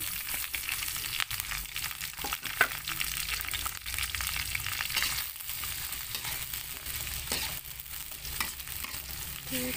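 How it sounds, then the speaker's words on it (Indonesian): Squid and tempeh stir-fried in a pan for a black-ink squid dish, giving a steady, close, dense sizzle with scraping stir strokes and occasional clacks, and no voices. "Ditumis"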